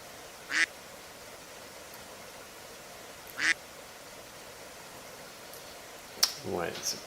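A duck in a video game gives two short, clear quacks about three seconds apart, followed by a brighter burst and a brief fluttering sound near the end against a quiet background.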